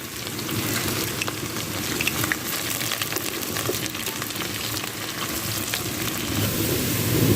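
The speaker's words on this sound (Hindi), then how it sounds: "सरसों ऑयल का इस्तेमाल कर रहे हैं। 1 प्याली सरसों ऑयल ले ली है, 2 हमने प्याज ले लिया।" Onions sizzle and crackle steadily in hot mustard oil, a constant close frying hiss that grows slightly louder toward the end, with no talking.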